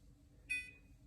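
A single short electronic beep from an oven control panel as the timer is set, bright and clean over a quiet low hum.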